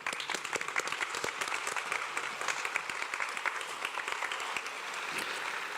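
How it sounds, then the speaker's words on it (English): A large audience at a university engineering graduation ceremony applauds steadily and at full volume, dense clapping sustained throughout with no break or voices. "Please help me in giving them a warm round of applause."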